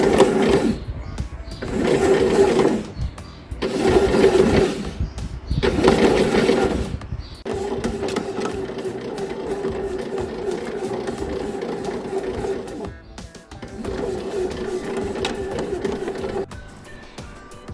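A stand mixer kneads soft bread dough with a steady mechanical whir that pulses on and off in short bursts for the first several seconds, then runs continuously at a moderate level, close by.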